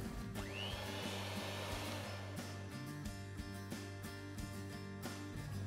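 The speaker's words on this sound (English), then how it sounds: "I'm creaming the butter and sugar together here. We'll just scrape this down once and whisk it one more time." A loud electric hand whisk whirs steadily while creaming butter and sugar in a bowl, with a constant motor drone and rhythmic clattering of beaters against the bowl throughout, no talking.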